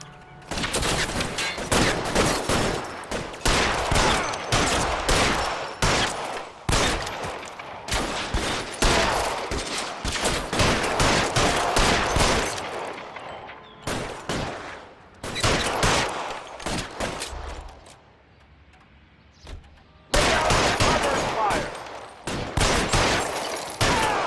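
Loud, sustained gunfire fills a shootout with security men in the video game L.A. Noire, with rapid overlapping shots in dense bursts, brief lulls, then renewed volleys.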